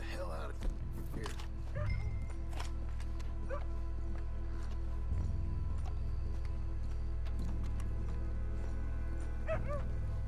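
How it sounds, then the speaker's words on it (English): Dog barking in the open-world video game Red Dead Redemption 2, a few brief barks set back in the mix under a steady low rumble of game ambience, with some talk over it. "I hear doggo barking"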